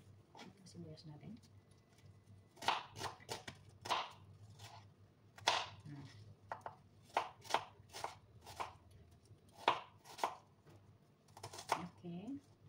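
Knife chopping onion on a board, a steady run of sharp, close chops in irregular bursts with short pauses, under low background talk.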